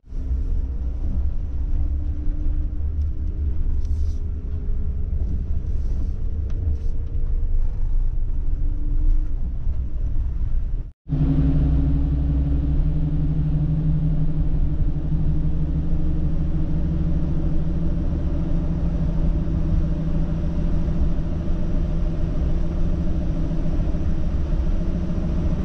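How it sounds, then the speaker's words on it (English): Road traffic passes on a quiet early-morning street near a lake in Michigan, a continuous low engine rumble and tyre roar that holds steady throughout, broken only by one brief cut. "Lots of cars here now."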